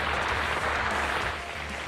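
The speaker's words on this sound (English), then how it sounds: "let's give the developers a round of applause" A crowd applauds in a brief, dense, steady burst of clapping that fades slightly at the end.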